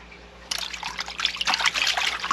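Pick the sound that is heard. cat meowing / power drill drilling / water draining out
water draining out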